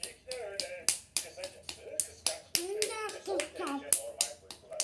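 A young child claps along at home with an adult during a Turkish rhyme game, a series of sharp, close claps in an uneven rhythm woven between a child's and an adult's speech.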